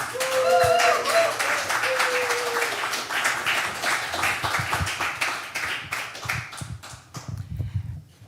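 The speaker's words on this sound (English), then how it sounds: "And let's give a huge round of applause, Jackie Craven." An audience at a poetry night breaks into applause for a poet, a dense burst of many hands clapping that thins into scattered claps as it fades, with a voice briefly heard at the start.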